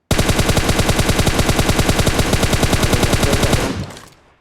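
Dense, loud automatic gunfire in the PUBG Mobile video game, a fast unbroken stream of shots lasting several seconds before stopping and fading into a brief decaying echo.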